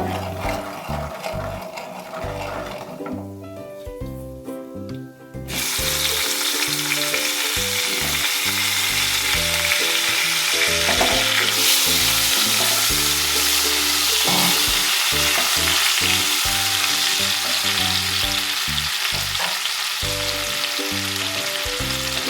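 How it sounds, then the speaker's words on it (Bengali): Chopped chili and tomato land in a pan of hot oil with turmeric and coriander powder, erupting into a loud, steady sizzle that holds after a quieter frying start, with occasional stirring scrapes and no voices. "এগুলো একটু ভাজা ভাজা হলে আমি লঙ্কা আর টমেটোটা দিয়ে দেবো"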